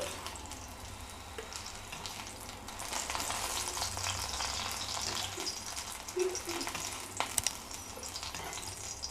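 Ingredients for fenugreek tomato chutney fry in a pan with a steady sizzle, and brief stirring clinks rise near the end.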